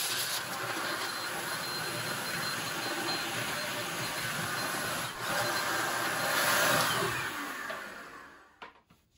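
A power driver runs screws in to secure an Ohm Walsh 2 speaker, a sustained close whirring grind that swells near the end and then cuts off abruptly.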